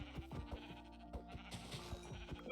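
Minecraft sheep bleat in a short wavering cry over a steady backdrop of game sounds and rhythmic low thumps, fairly close and moderately loud.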